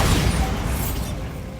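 A Bombarda explosion spell going off in Hogwarts Legacy: one loud, broad blast that rings and fades over under two seconds.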